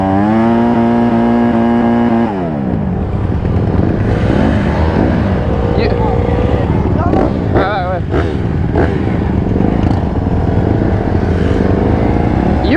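Honda 150 motorcycle revving hard and accelerating during a street race, its engine note steady and loud at first, then rising and falling through gear changes, with people talking over it throughout.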